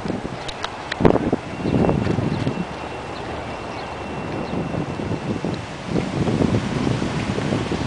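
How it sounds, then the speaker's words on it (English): Gusty wind buffets the microphone on the Mississippi River levee at Baton Rouge on the Fourth of July, a steady low rumble with stronger thumping gusts near the start and toward the end. "Sorry about the wind"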